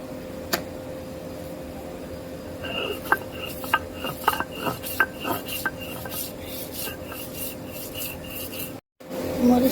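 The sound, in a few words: grinding chillies on a grinding stone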